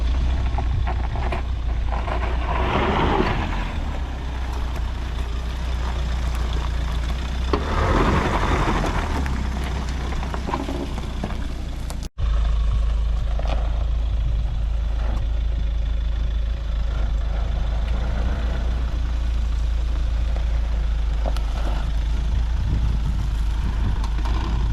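Mahindra S11 automatic 4WD under way on a test drive, its engine a steady low drone with road and wind rumble throughout, a brief cut midway, no talk.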